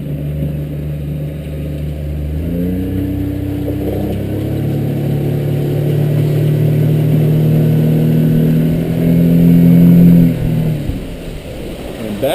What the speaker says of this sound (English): Picks the throttle up just fine.